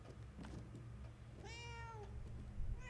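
A cat meows twice in the video game Murdered: Soul Suspect, a clear drawn-out meow and then the start of another, close against a low ambient hum.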